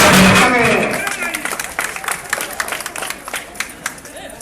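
A crowd at an outdoor Olympic Day event in Uzhhorod applauds an athlete carrying a heavy load toward the finish, with dense clapping and cheering that fades slightly as a voice keeps talking over it.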